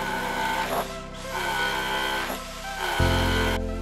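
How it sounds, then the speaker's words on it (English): A drill bores holes into a concrete slab for a DIY river table, a steady whirring grind close by with small surges and a brief drop before a heavier, louder bite at the end. "As I started drilling these holes"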